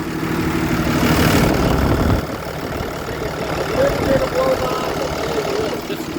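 Steady diesel idle of a 2011 Ford F750 service truck fitted with a crane and compressor, a close, low rumbling drone that runs throughout with slight variations in loudness.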